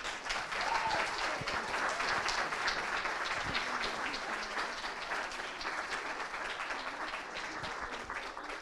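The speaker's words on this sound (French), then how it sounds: "Et je vous demande de les applaudir, tout d'abord." An audience at a student research forum breaks into sustained applause, a dense wash of many hands clapping steadily for the whole stretch with no talking.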